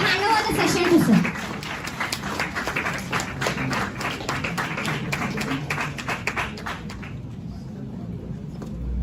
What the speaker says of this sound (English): Welcome to you, sir, with a big round of applause.